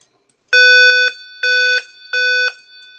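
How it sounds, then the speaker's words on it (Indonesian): An electronic buzzer alarm in a light-sensor anti-theft circuit sounds three sharp, loud beeps in an even rhythm, each with a steady tone, separated by short pauses. "dia akan menampilkan high pada LED dan buzzer."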